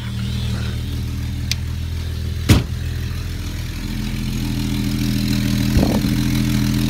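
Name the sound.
43-year-old car engine idling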